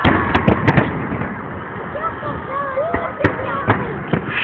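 Victory Day fireworks salute in Omsk on 9 May 2013, popping and cracking in sharp bursts, several loud bangs at the start and later, with people talking throughout.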